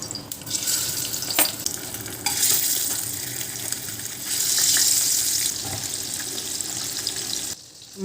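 Steady oily sizzling of fish frying in a pan, fairly loud and continuous, with occasional clinks and stirring noises, no voices.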